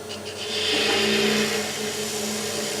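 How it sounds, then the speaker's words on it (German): A 6 mm drill bit turned by hand on a handle to bore out a pilot hole, giving a short close grinding, rasping scrape that swells and holds steadily for a couple of seconds. "Have a 6 millimeter drill on a handle."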